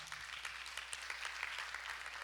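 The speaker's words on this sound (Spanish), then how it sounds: "Dele palmas fuerte al Señor" A church congregation claps for the Lord during a Friday evening service, faint and distant rhythmic applause with a few sharper claps standing out.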